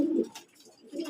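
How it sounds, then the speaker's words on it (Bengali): A newly added pigeon among a flock of pet pigeons gives two low, soft coos, one at the start and one at the end, with a quiet gap between them. "নতুন কবুতর কি করছে দেখছেন?"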